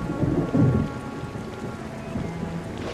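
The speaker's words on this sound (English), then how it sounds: "It's raining." Steady rain with a low rumble of thunder in the Tower of Fantasy video game, the thunder rolling loudest near the start over continuous rainfall.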